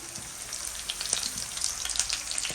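Onion, green chillies and garlic sizzle steadily in hot oil in a pan, a close, continuous hiss with occasional stirring scrapes and no voices.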